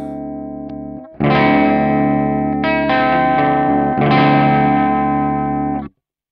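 Electric guitar run through a pedal set as a soft overdrive: a quiet held tone, then loud driven chords ring out alone in several sustained strums before cutting off abruptly.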